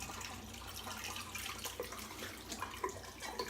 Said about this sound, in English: So rinsing out the bowl and the brush